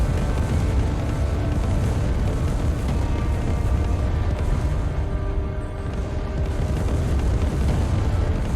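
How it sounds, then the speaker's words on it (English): Rockets exploding among a swarm of zombies in the video game SwarmZ, a dense continuous rumble of overlapping booms and blasts, loud and unbroken without talk. "So far, Disco Inferno is just letting loose those rockets."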